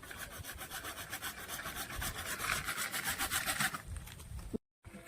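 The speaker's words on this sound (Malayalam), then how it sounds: "ഓക്കെ, നമ്മളിതിന്റെ കുറച്ച് ഭാഗം കട്ട് ചെയ്യുകയാണ്" Steady back-and-forth sawing cuts through part of a homemade village fishing trap, a rhythmic rasping close up that runs for several seconds and then stops abruptly.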